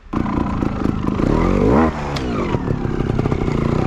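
Sherco Factory 300 trials motorcycle revving hard and clattering as it climbs over a log during a solo trials session, a loud close engine rising in pitch then dropping back to a rough idle.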